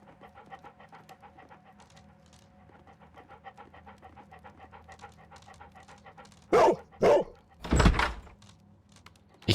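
Dog in a video game panting rapidly and steadily for several seconds, then a few loud, sharp barks in quick succession near the end, close and clear with no talking.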